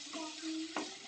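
Mixed vegetables are stirred in a frying pan, close and quiet, with a soft sizzle under a brief scrape of the utensil near the end.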